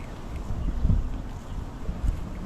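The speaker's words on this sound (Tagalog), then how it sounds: "Mahangin na naman." Wind buffets the microphone in low, uneven gusts, rumbling and thudding through a short stretch outdoors by a river with no talking.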